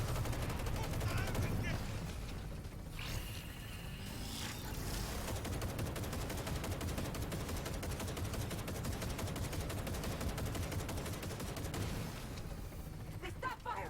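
Sustained heavy gunfire in the Cyberpunk 2077 Phantom Liberty video game, dense overlapping bursts of automatic shots and booms running throughout at a loud, steady level, with a mechanical whirring sweep partway through.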